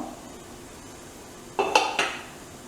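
A few metallic clinks and taps of a spoon or knife against a pot of boiling millet idli, three quick knocks close by over a quiet background.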